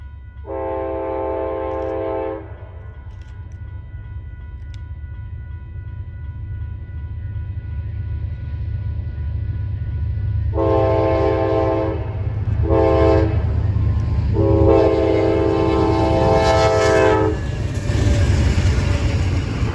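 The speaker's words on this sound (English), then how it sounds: "The crossing gates activate as AMTK 816 comes east again on another late Amtrak 6." Amtrak P40DC locomotive 816 leads an eastbound Amtrak train through a level crossing, sounding long, loud horn blasts in a long-long-short-long pattern over the low rumble of the approaching train.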